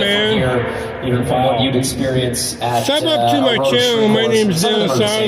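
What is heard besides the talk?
None of the usual background noises is heard.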